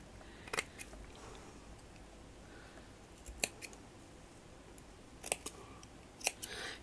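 Scissors snip off the trimmed ends, several short crisp cuts scattered across a quiet background with no talking.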